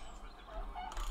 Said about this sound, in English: let's go to town and shoot the chickens in town